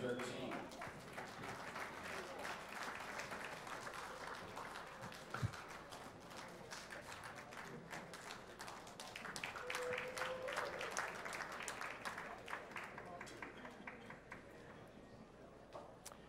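Arena crowd applause for a pool player at the 32nd U.S. Open final, a sustained wash of clapping that rises and slowly tapers off, with a commentator's voice faintly underneath.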